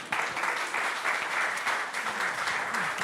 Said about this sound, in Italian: Ecco, un applauso ad Arnaldo.